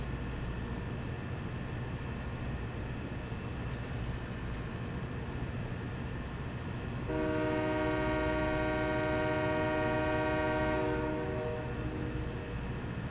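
Train in Farming Simulator 17 on the Estancia Lapacho map, a steady rumbling run with a sustained horn blast partway through, heard alone and fairly loud.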